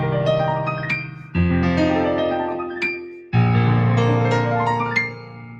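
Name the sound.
arpeggios played over a 2-5-1 chord progression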